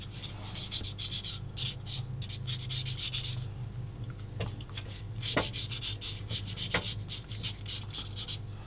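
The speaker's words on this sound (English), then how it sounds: "This is a really old sanding stick, and I'll keep it because it still does its job." Rapid back-and-forth scratchy rubbing of an old sanding stick on a plastic 1/35 scale model part, close up, in quick bursts with a few pauses and light taps.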